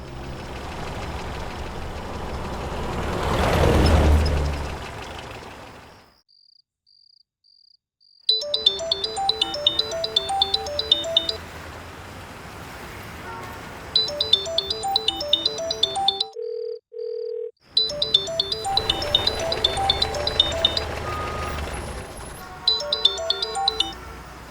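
A phone ringtone plays in bursts of bright, repeating electronic chirps, stopping and restarting a few times with short silent gaps, fairly loud and alone without talk.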